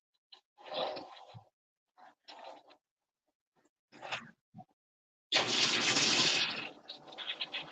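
Something is rinsed under a running kitchen tap. Short bursts of splashing water start and stop several times, then a longer, louder stream of running water, close and quiet, with no talking.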